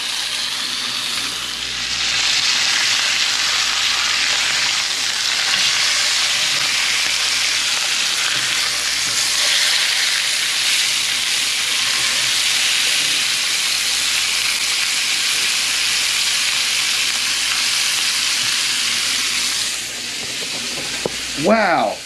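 Beef sizzles steadily as it browns in a hot pot for beef soup, a constant loud hiss that holds for about twenty seconds, with a brief clatter near the end.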